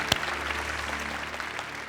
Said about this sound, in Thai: ขอเสียงปรบมือดังให้กับคุณโกด้วยครับ